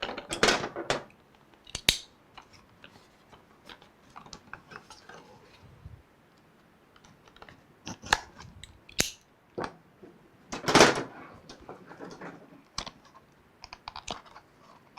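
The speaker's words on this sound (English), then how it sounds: "Now let's get the drive out of here." Working the drive out of an AtomMan G7 Ti gaming mini PC with an Intel Core i9-14900HX produces sparse, close, irregular plastic clicks, taps and small scrapes separated by near-silent pauses.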